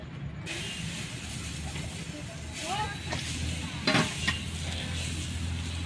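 Lentil dosa batter, ground from mixed dals, sizzles in oil on a hot griddle pan, a steady loud frying hiss with a few sharp scraping clicks partway through and people talking over it.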